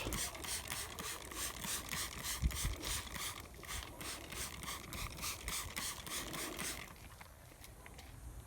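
A spray bottle mists Sakarya Kimya quick detailer onto a wet car, its trigger pumped in a fast, even run of about a dozen close, crisp spritzes that stop near the end.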